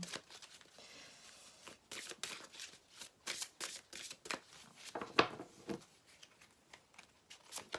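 A deck of tarot cards is shuffled by hand in quick, crisp riffling bursts. The shuffles are close and fairly quiet, with one sharper snap near the middle.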